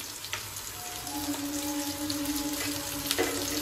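Potatoes fry gently in a pan for a cauliflower curry, a soft steady sizzle close by with a faint whining tone over it and a few light scrapes, no talk.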